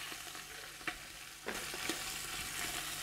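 Kid goat meat sears in a pot on a quiet, continuous sizzle broken by a few soft clinks and stirring bumps, with no talking.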